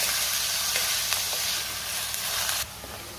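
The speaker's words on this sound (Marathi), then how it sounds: "कांदा आपल्याला व्यवस्थित परतून घ्यायचा आहे। कांद्याला थोडा लाल रंग येईपर्यंत कांदा आपण परतून घ्यायचा आहे।" Onions sautéing in a pan until golden for a chicken sukka fry give a steady, loud sizzle throughout, with faint stirring scrapes. The sizzle drops slightly near the end.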